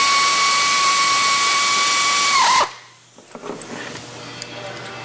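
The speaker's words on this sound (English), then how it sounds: "I usually try to alternate my bolts so you're not just tightening on one side" A power tool tightens transmission bolts on a Fox Body Mustang during a TREMEC Magnum install, whirring loud and steady for a couple of seconds before cutting off abruptly, followed by a few faint metallic clinks.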